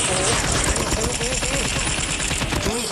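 Rapid automatic gunfire from a shooting video game rattles continuously and loudly under excited talk, with dense bursts running through the whole stretch.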